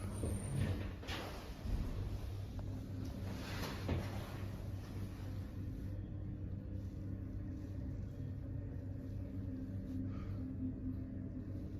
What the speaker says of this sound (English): Watch out, the door's going up this time.